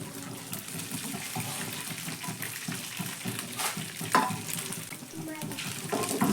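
A savory tiffin snack fried and stirred in oil in a pan, heard as a steady mid-level sizzle with scraping and shuffling from stirring and a brief sharp knock partway through.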